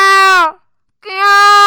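A human voice imitates a peacock's call in two loud, drawn-out, wailing tones separated by a brief silence, close and clear at a school variety programme.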